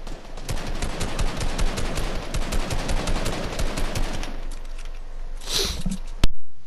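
Rapid automatic gunfire in the video game Fortnite, a continuous rattling stream of shots for several seconds, followed by a couple of softer effects and one sharp final bang.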